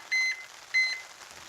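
Two short electronic beep bursts from a ThermoWorks Smoke thermometer sounding its high temperature alarm at a smoker, each a steady tone about a fifth of a second long, fairly clear against quiet background hiss.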